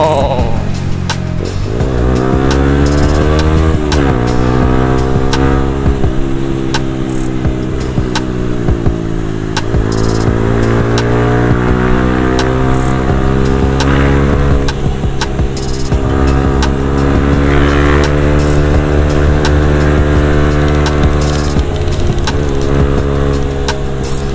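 Yamaha Xabre motorcycle with a 15-48 sprocket set and TK Racing O-ring chain pulling hard from low revs, its engine rising in pitch through repeated climbs and gear changes, loud and close for the whole stretch.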